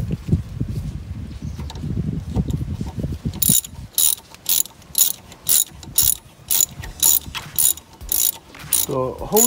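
A ratchet tightens a hose clamp on an 11th-generation Toyota Corolla's intake hose, giving quick bursts of sharp metallic clicking in a steady back-and-forth rhythm, close to the microphone, after a stretch of low rustling handling noise.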